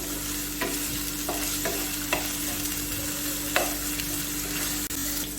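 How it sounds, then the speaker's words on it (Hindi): Ginger and garlic frying in about two tablespoons of hot oil in a pan, a steady close sizzle broken by a few soft stirring scrapes, with no talking. "मैं अदरक और लहसुन 1 टेबल स्पून फ्राई करूँगी"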